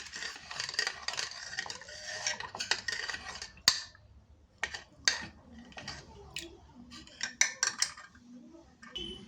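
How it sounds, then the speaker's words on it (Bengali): A spoon stirring jackfruit seed dal in a pot after water goes in, a quick irregular run of scraping and clinking strokes against the metal, close and fairly loud. "জলটা দেওয়ার পর আবার একটু খুব ভালো করে এভাবে নাড়িয়ে দিচ্ছি"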